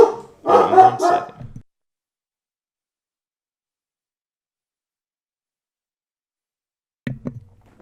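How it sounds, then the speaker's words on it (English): A dog barks in a short burst nearby, followed by long silence, then another brief bark or yelp near the end. "Alright, that was my dog."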